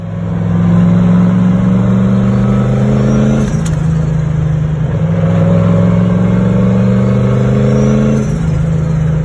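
A turbocharged LS-swapped Caravan engine revs loudly and close on a test drive, holding a steady drone that drops and climbs again twice, with no voices.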